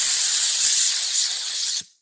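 A compressed-air spray gun set to full fan width gives one steady, loud, close hiss of spray for about two seconds, then cuts off abruptly into silence.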